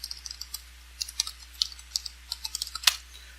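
Keys clacking on a computer keyboard as a short search term is typed, with light irregular taps at close range over a faint steady hum, no voices.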